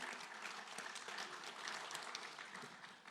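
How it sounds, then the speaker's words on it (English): An audience at a marine and fisheries panel discussion claps for the panelists, a faint, dense patter of applause that holds steady throughout. "Let's give a round of applause to our panelists."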